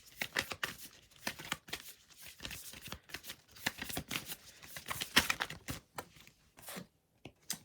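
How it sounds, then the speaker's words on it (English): Oracle cards from a Moonology deck being shuffled by hand, a soft, close riffling and slapping in quick irregular bursts with short pauses, quiet and without talk. "I'm going to be pulling from my Moonology cards"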